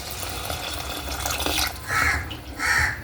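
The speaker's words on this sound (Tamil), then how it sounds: "இப்போ நம்ம தண்ணி ஊற்றிக்கலாம்." Water pours steadily into a pot of fish curry, a continuous rushing splash, while two short harsh bird calls sound in the background.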